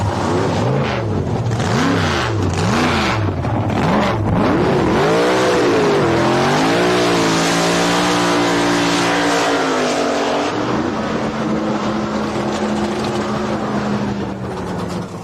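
Nitrous-fed Pro Modified drag race cars launching hard off the starting line, a loud, continuous roaring engine note that rises and sweeps in pitch, steady and close throughout.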